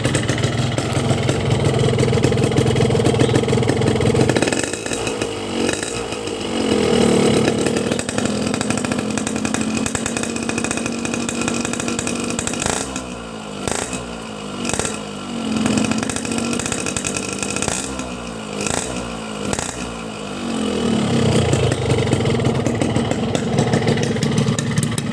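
A small two-stroke motorcycle engine with an ECCO exhaust idles with a buzzing rattle, then revs up sharply several times in quick bursts before settling back to idle; loud and close.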